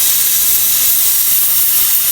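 Onion frying in hot oil in a pot, heard as a loud, dense, unbroken hiss that stays even from start to finish, with no voices.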